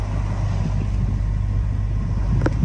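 Sailboat's auxiliary engine runs steadily under sail with only the genoa set, during coastal navigation off the Bozburun peninsula in Turkey; a continuous low rumble holds level throughout, with a brief faint tick near the end.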